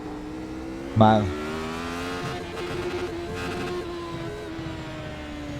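A McLaren-Honda MP4/4 engine in a racing simulator gives a sharp, loud throttle blip on a downshift, a brief rising rev burst that settles into a steady engine drone while someone speaks briefly.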